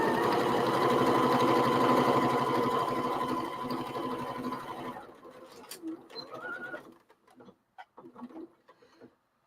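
A sewing machine stitches a grocery bag in a steady, fast mechanical whir for about five seconds, then stops. A person talks over the noise and keeps talking after it ends.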